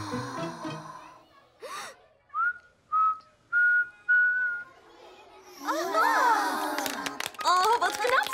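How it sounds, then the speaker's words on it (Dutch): A cartoon child whistles four short, steady notes one after another, following a brief gasp, then excited high-pitched voices take over. "Je hebt leren fluiten."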